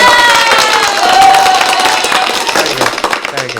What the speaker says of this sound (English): Our applause.